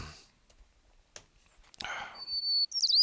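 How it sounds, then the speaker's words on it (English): A white-crowned sparrow sings at the very end: a clear sustained whistle and then a quick warbling trill, after sparse clicks and rustling. "to create the full and true song of the white-crowned sparrow"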